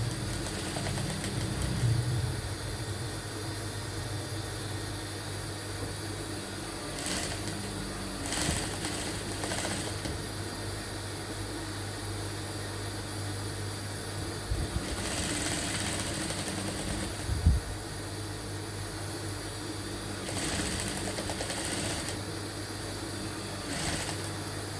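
Sewing machine stitching the seam of a queen-size fitted bedsheet, a steady soft mechanical whir with faint rattling, close but fairly quiet and continuous.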